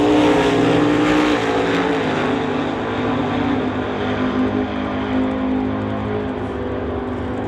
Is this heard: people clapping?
no